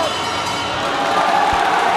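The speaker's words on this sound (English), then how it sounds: "A massive round of applause for both fighters." Crowd at a boxing bout between Chad Sugden and Luke Blackledge, a broad wash of cheering and clapping filling the hall, steady and moderately loud, rising slightly toward the end.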